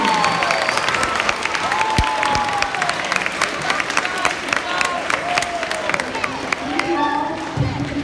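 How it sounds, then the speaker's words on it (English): At a school event for third and fourth graders, an audience applauds and cheers for teachers, crowd noise and children's voices mixing with scattered clapping and shouts. "third graders, great big round of applause to your teachers"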